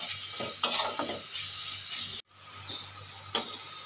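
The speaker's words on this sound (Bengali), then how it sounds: "আমি এই মশলাটা সুন্দরভাবে কষিয়ে নেব" Spice paste of tomato, onion, ginger and garlic with chilli flakes fries gently in a pan, sizzling steadily under intermittent stirring scrapes. There is a brief near-silent break and then one sharp clink.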